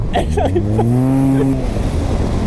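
Yamaha TMAX scooter fitted with a 100 hp turbo accelerating hard, its loud, close engine note climbing steadily in pitch, with a voice exclaiming over it.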